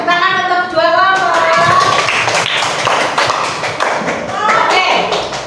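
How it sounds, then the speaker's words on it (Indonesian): A classroom of pupils claps for two groups during an Indonesian lesson, brisk close clapping and tapping mixed with children's voices and singing-like calls. "tepuk tangan untuk dua kelompok"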